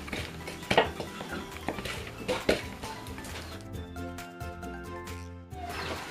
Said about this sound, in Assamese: এইখিনি পিঁয়াজখিনি এতিয়া ইয়াত আমি সংমিশ্ৰণ কৰিম। এইখিনি এতিয়া হাতেৰে মিক্স কৰি দিছোঁ।